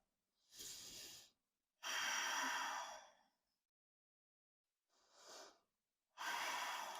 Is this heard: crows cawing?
no